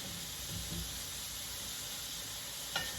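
Seafood sears in a pan for a Maryland seafood pot pie, giving a faint, steady hiss and sizzle with a couple of soft shuffles and a brief sharp tap near the end.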